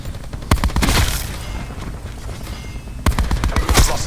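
Gunfire in the video game Titan Sandstorm, heard as two loud bursts of shots, one near the start and another toward the end, with quieter game noise in between and no talk.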